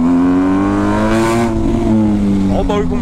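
A motorcycle with a straight exhaust pipe, open 'só o cano', revs loudly nearby, its deep engine note climbing and wavering over three seconds while a voice speaks briefly over it.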